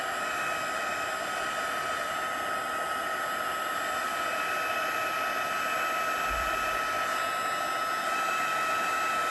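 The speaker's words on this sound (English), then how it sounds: "I'm going to take my heat tool, put it on 2, and I'm going to heat this ribbon just on the ends" A heat tool set to level 2 blows hot air onto the ends of a craft ribbon to crimp it. A steady, close blowing whir and hiss runs throughout with no talking.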